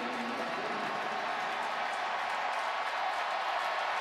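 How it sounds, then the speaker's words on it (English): Broad, steady roar of a stadium crowd cheering and applauding as Louisville celebrates its 2013 Sugar Bowl win over Florida, a sustained wash of noise with no distinct voices. "the celebration has begun in earnest on the Louisville sideline in their cheering section"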